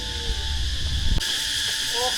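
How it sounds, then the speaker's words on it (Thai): Cicadas buzz in a continuous high, steady drone in a tribal village in rural southern Laos, with faint voices and other background sounds underneath. "โอ้เสียงจักจั่นห้องนี่เยอะ"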